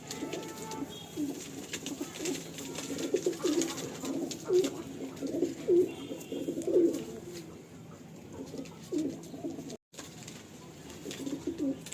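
Soft, low cooing of Kalanka high-flying pigeons repeats in short bursts amid a murmuring flock, fairly faint and close, with light rustling in the background.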